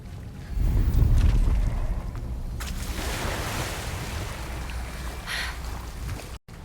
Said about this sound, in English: Look, where the water's bubbling.